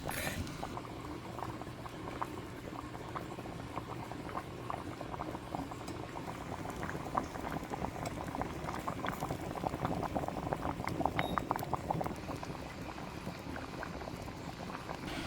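Red peas soup with seasoning bubbling in a pot, a steady close simmering burble with scattered pops and splutters throughout, no talk.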